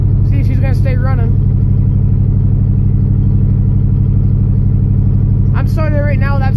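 The engine of a 1982 Chevy Custom Deluxe idles from a cold start with no choke, a loud, steady low rumble with even pulsing throughout, and a voice speaks over it near the start and again near the end.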